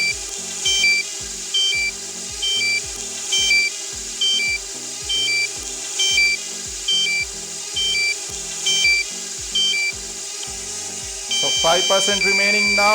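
A DJI Mavic Mini low battery warning in the DJI Fly app sounds as repeated short electronic beeps in a steady rhythm, about two per second, over a continuous background hum. A louder burst of sound comes in near the end.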